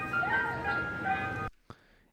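A short electronic ice cream truck jingle plays its tinkling melody for about a second and a half, then cuts off, followed by one faint click.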